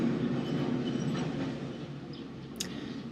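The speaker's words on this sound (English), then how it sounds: "Sorry, there's a tram and it's really loud." A loud tram rolls past close by in a city street, a steady heavy rumble with rail noise that eases slightly toward the end, with a brief high squeal near the close.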